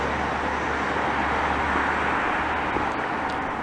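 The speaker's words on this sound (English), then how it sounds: "Despite the sound of the traffic, and there isn't really a lot of traffic" Road traffic passes by on a quiet, windless morning near a seaside promenade, a steady broadband roadway rumble heard alone without talk.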